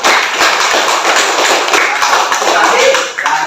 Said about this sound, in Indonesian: kasih tahu tepuk tangan untuk